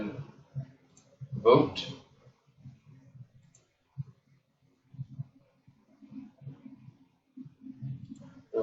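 Computer mouse clicks, faint and scattered, sit under intermittent talking at a desk.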